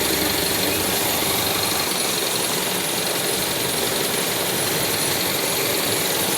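A car engine idles steadily with the heater running at full, a continuous loud hum and rattle with no breaks or voices.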